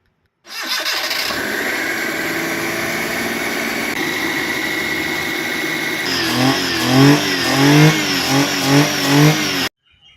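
A Maruti 800 car just fitted with new spark plugs and plug wires cranks briefly, catches and settles into a steady close-up idle, then blips the throttle in several rhythmic revs before cutting off.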